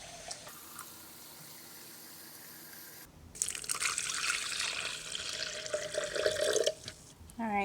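Warm water pours from a tap, a steady close splashing that fills in for bread dough after a few seconds of quiet, then a brief drip and trickle toward the end.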